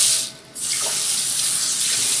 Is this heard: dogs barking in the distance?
no